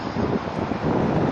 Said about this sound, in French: Un vent glacial